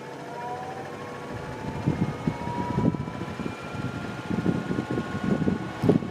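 An Endless Breeze fan runs after its counterweight was shifted about an inch, producing a steady whirring hum with a faint tonal whine and an uneven, pulsing vibration that grows rougher toward the end.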